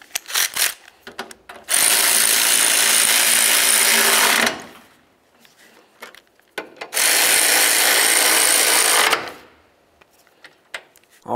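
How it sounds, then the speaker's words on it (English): A power ratchet or impact tool runs in two long bursts of loud, buzzy whirring while bracket bolts on a 2007-2012 Nissan Sentra coolant reservoir are tightened, with short clicks and quiet gaps between the bursts. "Once you have both of your bolts started, go ahead and snug those up as well."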